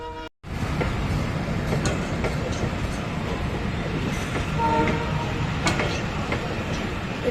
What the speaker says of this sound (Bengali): এটা নারায়ণগঞ্জের ট্রেন